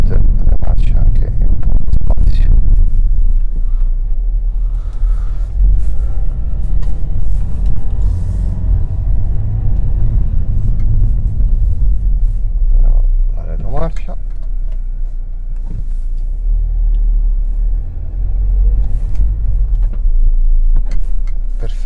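A Mercedes B 160 drives along with a heavy, constant engine and road rumble from inside the cabin as it shifts up through its gears, while someone talks throughout.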